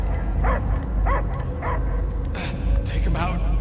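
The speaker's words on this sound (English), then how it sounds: "I hear only barking." A dog barking in the video game Marvel's Guardians of the Galaxy, several short yips and barks spaced across the moment, heard under ongoing character dialogue and game ambience.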